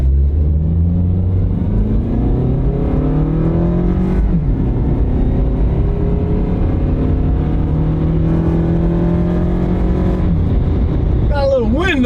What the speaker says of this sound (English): We'll floor it. Not a race car, but it accelerates good enough.